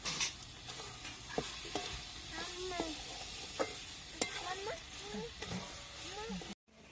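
Paneer bhurji is stir-fried in a pan with a soft ongoing sizzle. Intermittent spatula scrapes and clinks punctuate it, faint and close, and the sound cuts out briefly near the end.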